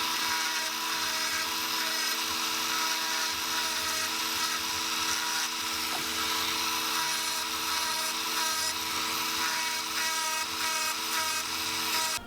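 A small drill bores holes in a plastic crankbait lure with a 4.5 mm bit, giving a steady high-pitched whine that runs continuously and close for the whole stretch, with no talking.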